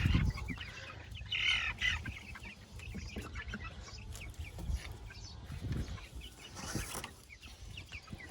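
Young chicks on fresh straw bedding cluck and fuss in scattered bursts, close and fairly soft, with rustling and small knocks between the calls.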